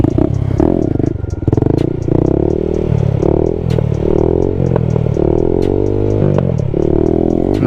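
A Honda Grom stunt motorcycle engine revs loudly and close by. It holds a strong, steady buzzing drone with pitch wobbles and rises, punctuated by short mechanical clicks and clatter.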